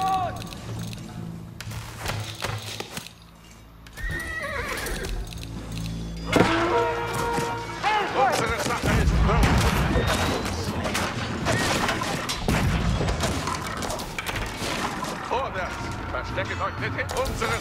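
A video game battle rages with dense gunfire and heavy artillery, thick overlapping blasts and thuds that swell loudly after a quieter opening and keep pounding without pause.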